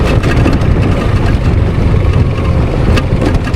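A motorcycle engine runs steadily during a ride, a loud, continuous low rumble with wind noise heard close up and no talking.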